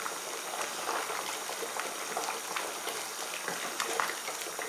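Broth boils in a pot on the stove, a soft, continuous bubbling and popping heard up close but at low volume, without any voices.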